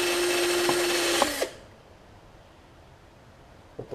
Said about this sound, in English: Just give them a nice little scrub.